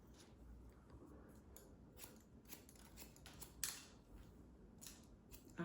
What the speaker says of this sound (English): Do you like the sound of that, Leila? All that hair falling?